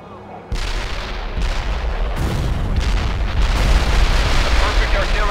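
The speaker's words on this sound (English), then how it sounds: "Heavy artillery barrage inbound." Artillery barrage in the video game World in Conflict: a sudden heavy boom followed by continuous loud, rumbling explosions and bursts that build in intensity, dense and close with no pauses.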